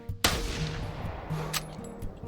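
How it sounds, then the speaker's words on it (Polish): A rifle shot in the hunting game theHunter Classic, one sharp loud crack near the start that rings out and decays into a lingering rumble, with faint game ambience following. "ten dźwięk tego wystrzału, ale mi się to podoba"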